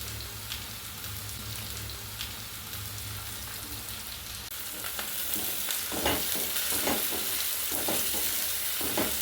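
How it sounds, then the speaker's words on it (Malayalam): Onion, crushed garlic and ginger, curry leaves and green chillies sautéing in a pan for a Kerala-style curry, a steady sizzle that grows louder midway, with rhythmic scraping taps of a stirring spoon. "ഇനി നമുക്ക് അതിലേക്ക് വെളുത്തുള്ളി ചതച്ചത്, ഇഞ്ചി ചതച്ചത്, വേപ്പില, പച്ചമുളക്, ഇത്രയും സാധനങ്ങൾ അങ്ങോട്ട് ഇടാം"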